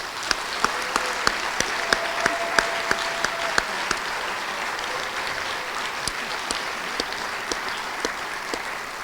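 Audience applause at a university president's address, a sustained even clapping from a large crowd with a few sharp individual claps standing out, heard at a moderate distance in a large room.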